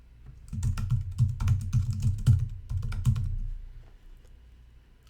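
Rapid keystrokes clatter on a computer keyboard in a quiet room, a dense, close burst of typing lasting about three seconds before it stops.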